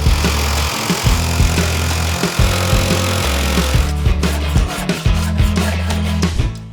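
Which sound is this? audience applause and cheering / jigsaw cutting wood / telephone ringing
jigsaw cutting wood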